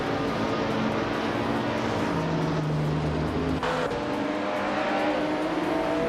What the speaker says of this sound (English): Iron Cross Wooden Cross is driving a 2016 Acura NSX GT3